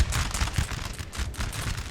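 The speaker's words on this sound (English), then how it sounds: "Just by the cannon fire" Cannon fire during a Napoleonic battle in the strategy game Napoleon: Total War, heard as a dense, continuous rumble of overlapping booming shots with no pauses, loud and sustained throughout.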